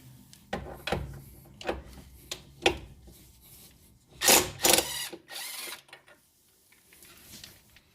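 Repeated sharp metallic clicks and ratcheting from a hand tool removing a nut from a tie rod end on a 2002-2006 Nissan Altima, with a few louder scraping bursts, close and alone without talk.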